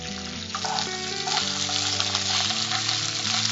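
Eggplant pieces drop into hot oil already seasoned with mustard seeds, urad dal, chana dal and curry leaves, setting off a steady, loud sizzle and hiss that runs unbroken throughout, with a tonal background hum.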